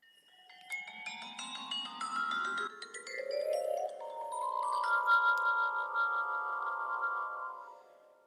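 A vibraphone with motor-driven discs spinning inside its resonators: struck bar notes ring out alone and sustain with a pulsing, wavering vibrato, several overlapping tones swelling and shimmering before fading.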